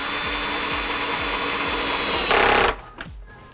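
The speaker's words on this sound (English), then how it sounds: "we can run our screws through the back of the unit into our anchors that we've already mounted into the wall" A power driver runs screws through the back of an indoor console unit into wall anchors, whirring steadily and rhythmically up close, then rising to a brief louder burst before cutting off.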